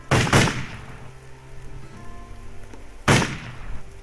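Two sharp gunshots from the PC game Risen 2: Dark Waters, the first a quick double crack right at the start and the second a single loud blast about three seconds later, with quiet game ambience in between.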